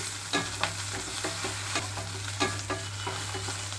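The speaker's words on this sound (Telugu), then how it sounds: "పచ్చిమిరపకాయలన్నీ పర్ఫెక్ట్గా వేగిపోయినాయి" Green chillies frying in a pan, with a continuous crackling sizzle and regular scraping stirs of a spatula, close and moderately quiet over a low steady hum.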